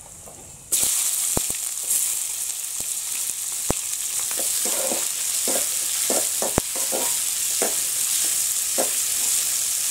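Onions sauté in hot oil, a loud sizzle that starts suddenly and then runs on steadily, with sharp pops and the scrape of stirring breaking through now and then.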